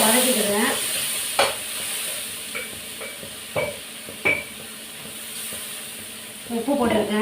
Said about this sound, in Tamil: நல்லா வதக்கிக்கிறேன்.